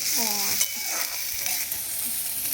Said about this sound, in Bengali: রসুন থেতো করে দিলাম প্রথমে তেলে, একটু লঙ্কা দিলাম, তারপরে স্প্রিং অনিয়ন আর একটু পেঁয়াজ দিলাম।